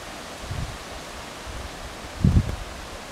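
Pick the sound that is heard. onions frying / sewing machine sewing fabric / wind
wind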